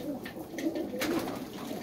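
Baku wide-tailed pigeons coo in soft, low, rolling bursts close by, a few calls overlapping against a steady murmur of background noise.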